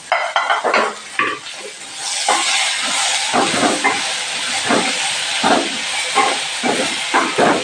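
Pressure cooker with potato masala inside, hissing steadily on a home stove during a morning cooking routine, its broad steam noise running throughout with bursts of clattering pots and utensils on top; no talking.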